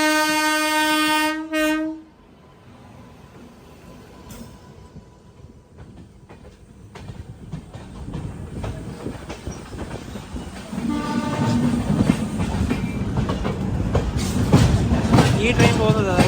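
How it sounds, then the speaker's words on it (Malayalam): The Trivandrum Express pulls in toward platform 1 of a station: a loud sustained horn blast opens, then the rumble and rhythmic clatter of carriages builds and grows louder as the train nears. "നമ്മുടെ തിരുവനന്തപുരം എക്സ്പ്രസ് പോകുന്നത് 1-ാം നമ്പർ പ്ലാറ്റ്ഫോമിലേക്കാണ്"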